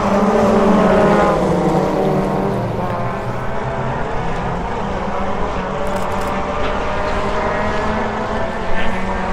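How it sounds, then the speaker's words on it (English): Youth Suzuki Swift rallycross race cars at Lydden Hill pass as a loud, continuous engine drone with shifting pitch, heard from trackside with faint voices in the background. "These are the Suzuki Swift racers"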